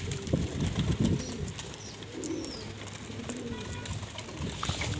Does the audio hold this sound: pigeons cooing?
yes